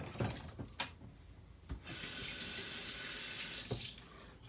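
Cold water runs from a kitchen tap into a sink for about two seconds, a steady hissing stream framed by clicks and clunks of the tap being opened and closed.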